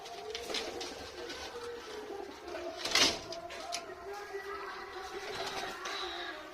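Fantail pigeons coo steadily in their loft among newly hatched and growing squabs. The soft, overlapping calls sound close and continuous, with a brief louder flutter or scuffle near the middle.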